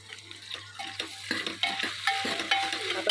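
Potato pakodi pieces being mixed into an onion and tomato masala in a pan, a soft sizzle under irregular scraping and clinking strokes of a spoon that grow busier, close by with no talking.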